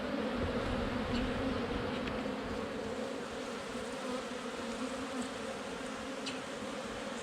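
Honeybees buzz steadily over an open hive frame holding nectar and pollen, a dense, continuous close-up drone that holds even throughout with no talking.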